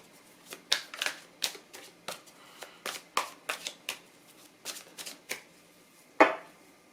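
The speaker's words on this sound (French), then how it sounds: "Je vais faire une petite coupe histoire de voir de quoi il va en retourner." A tarot card deck is cut and shuffled at close range, with a series of crisp, irregular riffling and slapping bursts against a quiet room.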